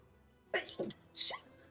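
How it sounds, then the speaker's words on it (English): A sneeze bursts out during a tabletop role-playing session: two quick sharp bursts followed by a third after a short pause, fairly close and moderately loud against quiet room background. "Bless you."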